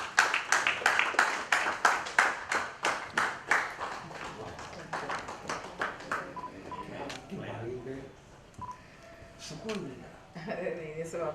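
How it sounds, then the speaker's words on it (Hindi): Audience applause at a ceremony honoring a guest, a steady rhythmic burst of many clapping hands for several seconds that fades into people talking. "जोरदार तालियां हो जाएं"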